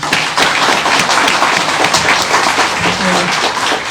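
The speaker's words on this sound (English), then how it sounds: "Let's give her another round of applause." A room full of people applauds after a presentation at a Memorial Day event, dense steady clapping throughout at close range.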